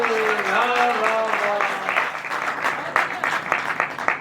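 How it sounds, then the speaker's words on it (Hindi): Audience at a Hindi kavi sammelan (poetry gathering) in Sabalgarh claps in a sustained, dense burst of applause, with rhythmic clapping peaks over a steady crowd wash; a voice is briefly heard at the start. "बहुत जोरदार तालियां भाई"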